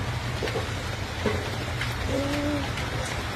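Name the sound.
heavy rain falling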